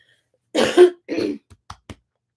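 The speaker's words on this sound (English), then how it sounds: "There was some phlegm in that cough" A wet, phlegmy cough in two bursts, followed by a few faint clicks and breaths. It is close and nothing else is heard.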